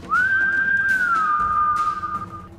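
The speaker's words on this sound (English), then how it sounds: "I point after him again, and I whistle for him." A single person whistles one long, clear, sustained note that rises at the start and glides slightly downward toward the end, close and alone with no talking.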